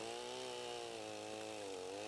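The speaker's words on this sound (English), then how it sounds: "I'll do a little play-by-play action here as I cut this wood up with my chainsaw" A chainsaw cuts a wood log to length while milling logs into bowl blanks, its engine holding a steady, loud, buzzing drone close by with no talk.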